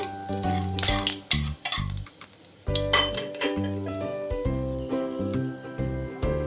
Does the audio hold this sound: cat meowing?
no